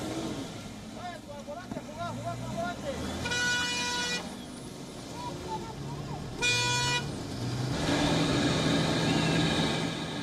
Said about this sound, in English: There was a huge traffic jam that appeared on the highway because of the snow